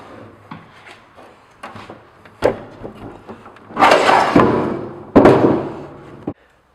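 Wheel balancer lifted off a wooden shipping skid, with scattered wooden knocks and scrapes building to two heavy rubbing, thudding bursts near the end, close by with no talking.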